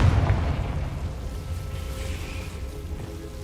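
A Confringo fire spell bursting in Hogwarts Legacy lands as a low, rumbling game explosion at the start, then trails off into a sustained, noisy wash of debris and ambience.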